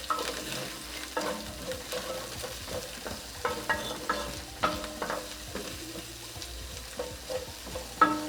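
Ginger and garlic are stir-fried quickly in a pan for Mongolian beef, with a soft continuous sizzle broken by sharp scraping and tapping of a utensil against the pan at irregular intervals.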